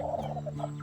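Chickens give a few soft, brief clucks and murmurs close by, short repeated notes over a steady low hum.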